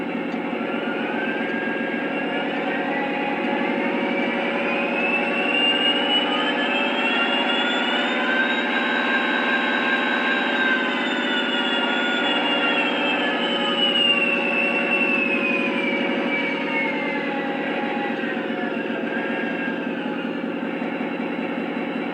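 Steady diesel engine drone from a Lionel Alaska GP38-2 model locomotive, its pitch rising and then settling back down over about twenty seconds, continuous and fairly loud.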